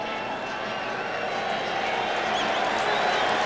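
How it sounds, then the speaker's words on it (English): A stadium crowd at the 1991 CFL Eastern Final roars and applauds after a Toronto Argonauts touchdown, a dense, steady wall of cheering that swells slightly toward the end. "And the crowd responds."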